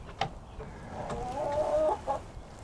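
Chickens grumble and cluck inside a coop, a steady run of low fowl calls with a couple of brief sharper squawks, fairly close and alone.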